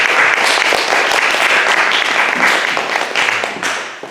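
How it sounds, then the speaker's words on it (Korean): A church congregation applauds the youth members, a dense, loud burst of clapping from many hands that carries steadily and starts to fade near the end. "우리 이제 청년들을 위해서 격려의 박수 한번 좀 부탁드릴까요?"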